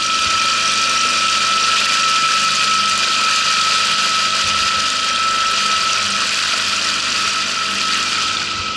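A Mercury 9.9 outboard motor on a Brema 390 boat runs steadily at 3000 rpm, a loud continuous mechanical drone with a whirring, ratchety buzz that never lets up.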